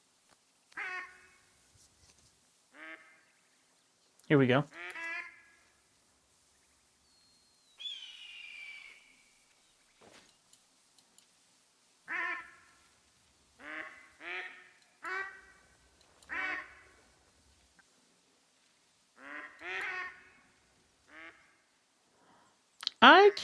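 Repeated bursts of duck quacking from the hunting video game Call of the Wild, several calls spaced across the stretch at moderate loudness, with someone speaking briefly in between.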